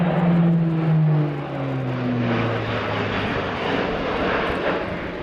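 An Airbus A400M Atlas military turboprop transport flying a display at the RIAT 2017 air show, giving a loud, steady engine roar with falling propeller hum as it passes and turns.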